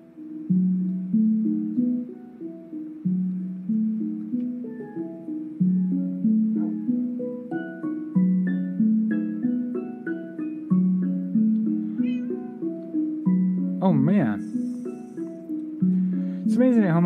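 Minecraft music disc playing in the game, a steady melodic tune of plucked, bell-like notes in a regular repeating rhythm, moderately loud, with a brief burst of sliding sound effects near the end.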